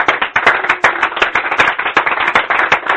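Dense, steady clapping fills a church congregation, many hands applauding together loudly and continuously without voices.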